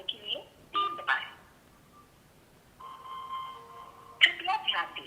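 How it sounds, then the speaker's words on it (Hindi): A phone keypad tone for pressing 3 on a call to an IVR system: chimes and beeps, a steady held tone in the middle, then a louder cluster of melodic prompt tones at the end. "अब हम 3rd नंबर की दबाएंगे और चेक करेंगे कि ये डिवाइस कनेक्ट हुआ है कि नहीं।"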